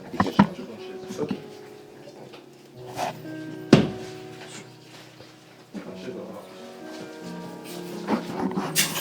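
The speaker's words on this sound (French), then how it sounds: "Tu cherches les chaises. Tu mets la chaise." Wooden or metal chairs are fetched and set down in a church hall, producing irregular knocks and scrapes, one sharp clack standing out, with occasional voices and shuffling in the room.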